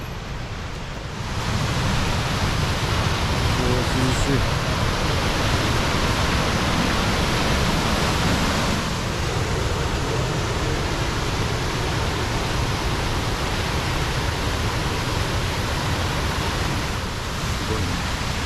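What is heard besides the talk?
waterfall on a hiking trail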